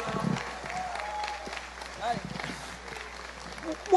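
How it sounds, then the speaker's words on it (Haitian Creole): Scattered clapping from an audience at a discussion about a priest's mission in the Episcopal Church, faint and uneven, with a few sharper claps under background murmur and voices. "Beaucoup d'applaudissements"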